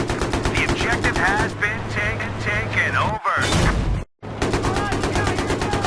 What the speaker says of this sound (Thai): ยิงเจ็ตไม่ถึงหรอกลูกปืนเราระยะไอ้นี่ไม่พอ